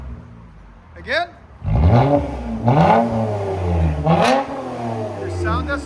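A 3.5L V6 car with a BIGBOZ aftermarket muffler revs hard several times in quick bursts, a deep throaty exhaust roar rising and falling close by, about 108 decibels.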